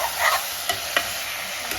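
Broiler chicken being stirred as it fries in a pan: a close, continuous sizzle broken by a few sharp scrapes and clinks from the spoon, with no talk.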